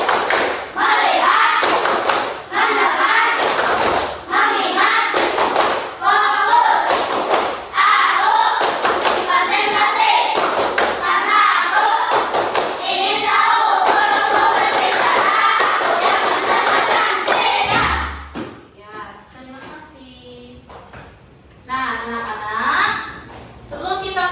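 Fifth-grade class doing a concentration clap game, rhythmic bursts of group clapping and thumping in patterned beats with chanting voices and some laughter, followed by quieter talk.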